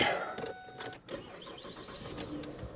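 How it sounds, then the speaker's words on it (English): An old, cheap used car's engine cranks and starts, a short whirring churn that settles into a running idle, with no talk. "It's a perfectly good running car. It will even start up. Let's start it up real quick."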